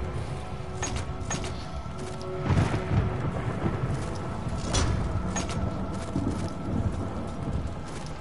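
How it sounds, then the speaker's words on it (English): Thunderstorm in the Diablo video game, with steady rain hiss and a few rolling thunder swells standing out around the middle of the clip; no speech. "Thunderstorm."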